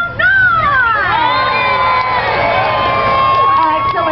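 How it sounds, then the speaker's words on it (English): A crowd of children and adults yells, whoops and cheers loudly and continuously for racing pigs at a pig race, sustained shouting with rising voices close by. "The louder you yell, shout, and scream for these pigs, the faster they will go."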